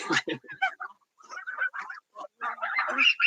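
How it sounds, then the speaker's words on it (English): Geese kept with backyard ducks and chickens honk in short nasal bursts at close range, interleaved with a person talking nearby. "want to show you one of these geese because these geese are just a joy to me"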